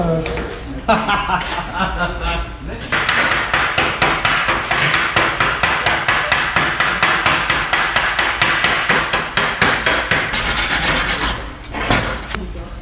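A hammer chips slag off a stick-electrode weld in a workshop class, a long fast run of sharp metallic taps repeated in a steady rhythm, close and loud, while people talk quietly in the background.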